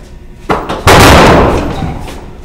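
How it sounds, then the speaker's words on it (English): An attempt to break down a door, heard as a sharp slam at about half a second followed by a louder, heavier crash that rings out and slowly decays, with no talk over it. "How about we try to break down the door?"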